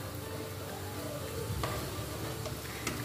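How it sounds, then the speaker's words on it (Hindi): Homemade chicken stock with capsicum boils in a pot over a full high flame, giving a continuous bubbling sizzle broken by a few faint clicks and light taps. "अब इसको बॉयल आ गया"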